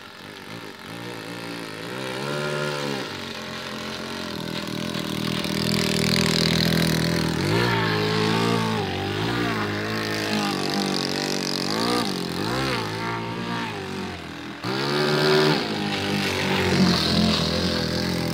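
Airboat engine on a first test run idles and revs, a loud, close, steady mechanical drone that swells and falls with changing throttle, running continuously throughout.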